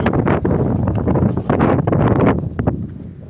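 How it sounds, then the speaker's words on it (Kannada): Strong gusting wind buffets the microphone in loud, roaring bursts, with rustling underneath; no voices are heard. "ಸಿಕ್ಕಾಪಟ್ಟೆ ಒಂದು ಗಾಳಿ ಗಾಳಿ ಗಾಳಿ"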